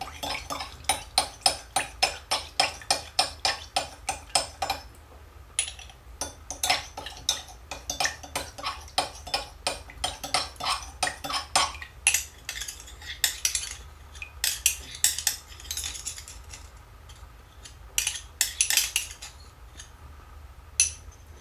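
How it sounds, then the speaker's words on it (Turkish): Essence and polysorbate being stirred in a separate container, a quick run of rhythmic clinking strokes of a utensil against the vessel, pausing briefly and then resuming, close and clear with no talking. "Şimdi bunu yavaş yavaş burada karıştırarak ilave ediyorum."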